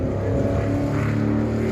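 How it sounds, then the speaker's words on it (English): A race car engine at Stafford Motor Speedway held at high revs, about 4,500 to 5,000 RPM, loud and buzzing with a slight stutter as it bounces off the rev limiter, heard up close without voices. "of the car bouncing off the rev limiter there"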